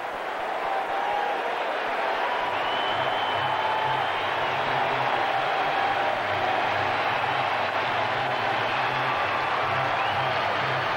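Steady roar of a near-capacity baseball stadium crowd at a 1993 Atlanta Braves vs San Francisco Giants game as Barry Bonds comes to bat, a dense continuous cheer that holds level throughout with no clear talk on top.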